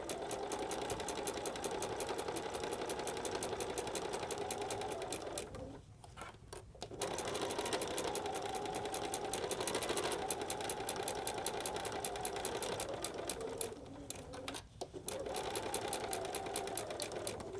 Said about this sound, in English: let me just show you a portion here so you can see stitching in the ditch.